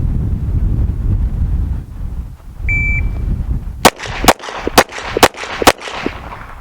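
Five quick pistol shots from a Smith & Wesson M&P 2.0 at a qualification range, evenly spaced and loud, each with a sharp crack, following a stretch of wind rumble and a brief beep.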